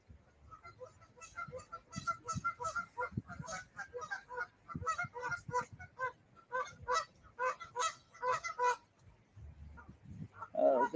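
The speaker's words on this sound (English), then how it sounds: "Here's the geese that were making the noise before." Geese honk repeatedly at a distance, a burst of overlapping calls that rises and falls over several seconds, with one louder, closer honk near the end and no talk.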